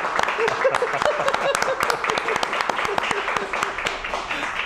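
An audience at a Peruvian television show applauds a Partido Popular Cristiano politician. Steady clapping runs throughout, with sharp individual claps standing out and a voice speaking over it.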